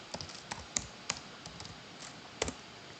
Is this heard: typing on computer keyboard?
yes